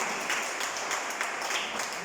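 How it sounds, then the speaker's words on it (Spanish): Steady congregation applause during a church sermon, a full wash of many hands clapping continuously and loudly throughout, no voices over it. "Dale ese aplauso al Señor, hermano"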